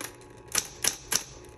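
A 1960s Coronet Electric 10 typewriter: three sharp, evenly spaced mechanical clacks of keys striking, close and clear with no talking.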